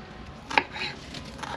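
A knife chops ingredients for Chinese sweet-and-sour pork on a cutting board, giving a few quiet, short knocks, one sharper than the rest, with no talk.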